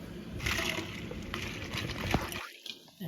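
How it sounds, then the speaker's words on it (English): Blanched green beans are plunged into an ice water bath, close splashing and sloshing as they are pushed under, then a few lighter drips and trickles. "we're going to put them in the ice bath, really kind of submerge them, make sure this cooking process is completely halted"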